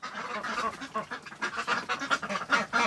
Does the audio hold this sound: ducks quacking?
yes